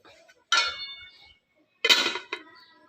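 A pot lid clatters shut twice over a pot of Thai pumpkin coconut-milk curry, two sharp close metallic clanks separated by a quiet pause, with no talking.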